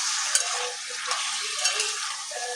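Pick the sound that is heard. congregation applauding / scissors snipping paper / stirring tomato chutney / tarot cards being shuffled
stirring tomato chutney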